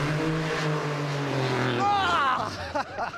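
An IndyCar race car sits at a loud steady idle, then accelerates hard off the start line in a rising engine scream that fades with the car. A voice is heard over the engine.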